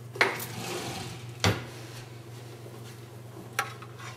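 Metal spoon fetched from a kitchen drawer for sawmill gravy, giving three sharp, isolated clinks spaced apart over a low steady hum, fairly quiet and close.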